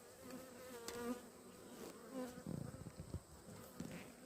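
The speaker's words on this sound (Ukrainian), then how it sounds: "в вуликах бджоли" Steady insect buzzing from many bees near the hives, with some handling bumps and clatter partway through.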